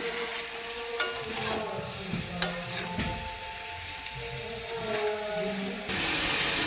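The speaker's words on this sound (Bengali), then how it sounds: "এখন ভালো করে সবজিগুলোকে আমি ভেজে নেব।" Vegetables with turmeric powder fry in a pan for millet khichdi, a low steady sizzle broken by a few sharp taps of a stirring spoon, close by with no speech.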